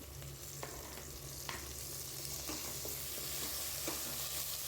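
Onions sautéing in a pan with dried red chillies and curry leaves for a brinjal and jackfruit seed curry: a steady soft sizzle with occasional scraping stirs and light clicks of a spoon, close and alone with no voices.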